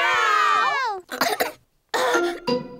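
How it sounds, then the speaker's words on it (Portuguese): Cartoon characters from Peppa Pig coughing in a children's animated show, several short raspy coughs from high childlike voices separated by brief pauses, following a sung or spoken vocal phrase. "O Danny e a Suzy estão com a tosse do Pedro."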